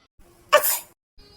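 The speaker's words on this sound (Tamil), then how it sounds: "நான் பாரு இப்பவே தும்மல் வருது." A single sharp, loud sneeze bursts out close by in a quiet room, preceded by a faint intake of breath and followed by silence.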